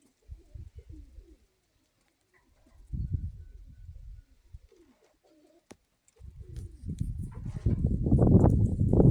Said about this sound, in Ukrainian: От так летять голуби